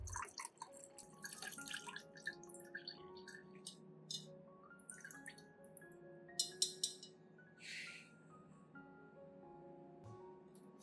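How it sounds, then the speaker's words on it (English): Liquid from a lime and rice solution strained through into a container, with quiet irregular drips and small trickles plus faint glassy clinks, close and soft, without speech. "I strain out the residue and keep only the clear liquid"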